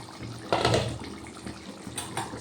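Lid lifted off a pot of simmering yogurt and onion curry, a short clatter followed by soft bubbling, close and fairly quiet.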